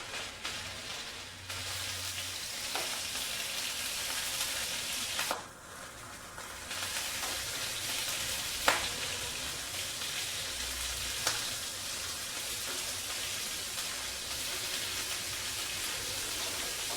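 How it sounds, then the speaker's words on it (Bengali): Prawns fry lightly in a pan, giving a steady, soft, hissing sizzle that continues throughout, with a brief dip and a few faint clicks. "যে কোনো চিংড়ি মাছ খুব বেশি ভাজতে নেই, খুব বেশি ভাজলে পরে শক্ত হয়ে যায়, তাই আমি এটা হালকা করে ভেজে নেব।"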